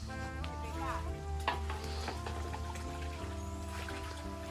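Indian trumpet tree (pega) leaves stir-fried in coconut cream in an outdoor home kitchen: steady sizzling and scraping of a spatula in the pan, continuous and close, with faint voices in the background.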